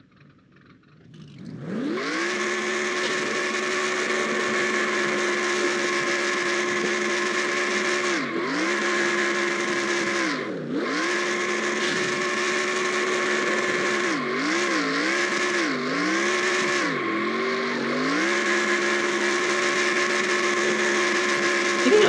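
A stock car in the NR2003 racing game does burnouts at Nashville Fairgrounds, its engine revving loud and sustained with repeated dips and climbs in pitch as the throttle lifts and reapplies, no voices.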